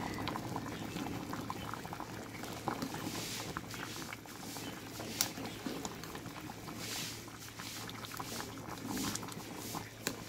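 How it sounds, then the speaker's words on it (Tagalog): Lechon paksiw boils hard in a pot with a steady, close bubbling and crackling simmer that runs throughout at moderate, even loudness, with no talk over it. "Ayan, kulong-kulo na."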